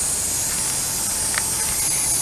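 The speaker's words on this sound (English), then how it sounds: "Spray the cap red." Spray paint can hissing steadily as red paint is sprayed from about an inch away onto a bottle cap, a continuous close, bright aerosol hiss with no talking.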